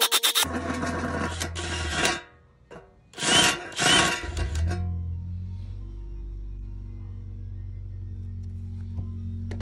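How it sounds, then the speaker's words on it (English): A 3/8 bit drills a hole for a soldering iron while building an automotive smoke machine: two loud, close bursts of power drilling separated by a short pause, then a low steady hum lingers after the drill stops. "I'm going to use a 3/8 drill bit to drill the hole for the soldering iron"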